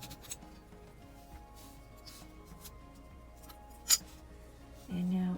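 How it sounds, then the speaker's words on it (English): Scissors cut material for a bow necklace at a new angle, giving one crisp, close snip amid faint handling noise. "And so I'm going to do a second cut at a different angle."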